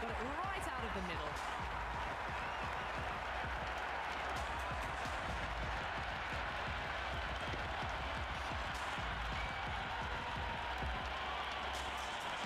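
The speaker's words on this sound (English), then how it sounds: "the crowd have joined the party. It's pretty noisy at the ground" Stadium crowd noise from the cricket video game Cricket 26, a steady, dense roar of cheering and applause at a noisy ground, continuous and loud from start to finish with a commentator's voice over it.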